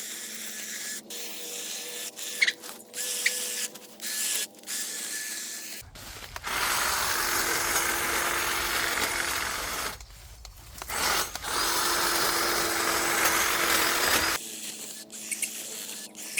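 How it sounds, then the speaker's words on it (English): A Dewalt 20V cordless hedge trimmer cuts through thick branches with a sustained buzzing rasp of reciprocating blades for several seconds, starting after scattered snips and rustling, with a brief pause midway. "even though there are some thicker branches in there, that just cut right through them"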